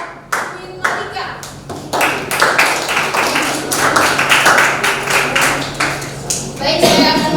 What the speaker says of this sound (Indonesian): sekali lagi berikan aplaus untuk Queen Malika